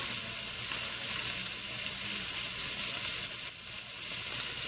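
A steak sizzles steadily in a pan on the stovetop over medium-high heat, a continuous close, bright hiss with no voices over it.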